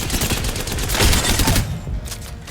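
Havoc energy rifle on full auto in Apex Legends: a dense, steady stream of rapid shots, loud and close, lasting about two seconds before cutting off.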